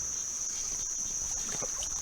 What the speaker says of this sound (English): there's not a sound to be heard but the water or the morning crickets